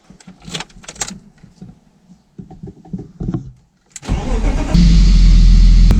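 A BMW E30 fitted with 325 injectors is started, with a few clicks and thumps, then a loud close crank that catches and settles into a steady idle.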